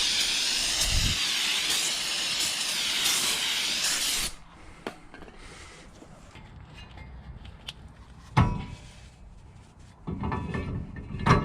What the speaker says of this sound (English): We're gonna have to actually spray brake clean all the way around this to clean it off of any material that might be on it from the factory